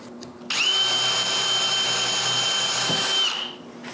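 A power drill bores screw holes in a wooden handle jig, whining loud and close for about three seconds at a steady pitch, then spinning down, with no speech over it.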